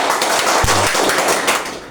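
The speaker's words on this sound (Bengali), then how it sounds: "করা হাততালি দিতে হবে, ঠিক আছে?" A crowd at an event claps in a thick, continuous wash of applause, with a brief voice sounding through the clapping.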